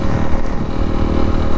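A Honda CRF300L motorcycle fitted with a 550 Exhaust, baffle in and ECU flashed to stage 1, rumbles loudly and close in a brief, steady engine burst.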